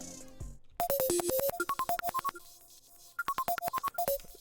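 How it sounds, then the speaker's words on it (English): Effectrix plug-in reverse effect on every second beat of a synth melody, with bright pitched notes in quick stepped runs, a brief gap, then another run of reversed-sounding notes, loud and alone. "It's just this reverse effect to every second beat."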